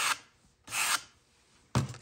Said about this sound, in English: you can use a sanding block